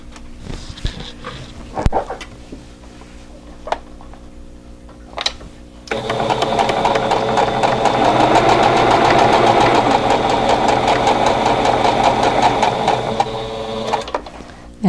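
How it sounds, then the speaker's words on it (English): Sewing machine stitching a seam corner to corner across quilt squares for a friendship block, running in a steady, close mechanical whir after a few faint handling clicks. "and then I'm going to sew right on that line."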